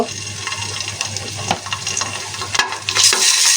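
Ginger-garlic paste hitting hot oil with cardamom and bay leaves in a pan, a steady close sizzle with stirring scrapes and a brighter hiss rising near the end.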